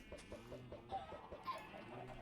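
Chickens clucking in a Minecraft-style video game with Pokemon mobs, a string of short rhythmic clucks repeating steadily at moderate, fairly faint level, no talking over them.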